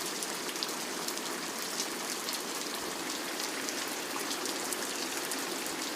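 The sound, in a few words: rain soaking the streets of Lipnica Murowana, Poland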